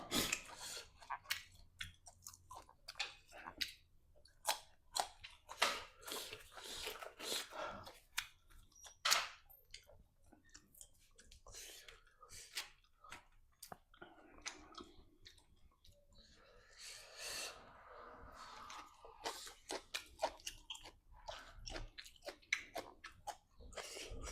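Close, crisp crunching and chewing of crunchy fish, with irregular bites and clicks continuing steadily over a long stretch.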